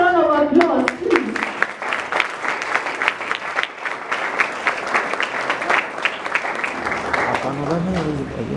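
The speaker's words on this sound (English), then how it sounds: "And a bigger round of applause, please" Audience at a speech event breaking into sustained, dense applause that fills the room for several seconds, with a speaker's voice briefly heard at the start and end.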